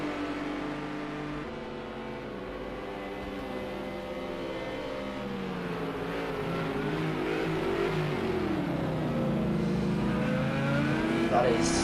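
Racing-game cars, a Lamborghini and two Porsches, battle for position at the Hockenheimring, their engines a steady droning whine that climbs in pitch and grows louder as they accelerate together.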